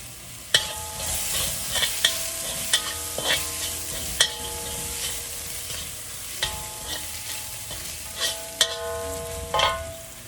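Garlic sizzles steadily in a hot pan with salt while a metal utensil repeatedly scrapes and clinks against it, stirring at an uneven rhythm.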